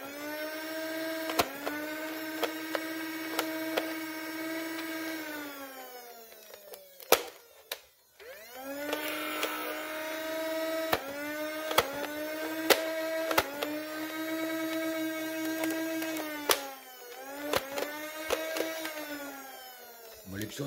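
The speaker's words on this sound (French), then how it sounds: "C'est laborieux, comme vous l'entendez, ça fait que bloquer." Motor of a modded Nerf Rebelle Rapid Red blaster whirring up and down with repeated sharp clicks and clacks as darts jam, a close mechanical whine that stops and restarts, with a voice speaking faintly in between.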